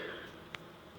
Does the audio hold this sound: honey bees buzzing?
yes